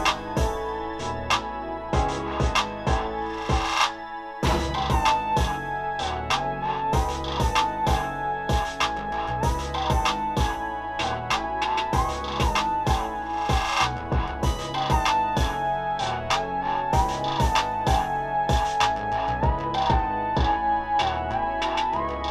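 A hip-hop beat with punchy drums and a looping melodic line, steady and full throughout with no voices.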